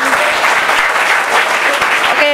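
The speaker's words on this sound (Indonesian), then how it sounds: "Tepuk tangan dulu." An audience at a talk claps in sustained, dense applause that stays loud and even for a couple of seconds, with a voice briefly emerging at the end.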